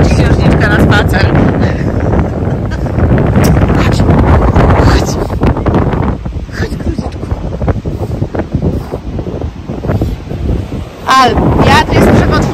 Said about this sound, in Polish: Wiatr jest przepotworny.